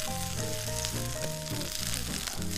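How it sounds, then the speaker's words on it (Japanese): Mushrooms, finely chopped scallions and diced ginger stir-frying in a hot pan, a loud, dense, continuous sizzle with steady crackle throughout and no speech. "細ネギと生姜、こちら1センチ角に切ったものですね、これも入れて一緒に炒めます。"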